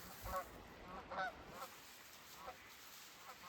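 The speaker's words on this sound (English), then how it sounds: "Oh, and there's some geese." Several geese honk in short repeated bursts outdoors by water where ducks are also present, the calls fairly faint over a steady background hiss.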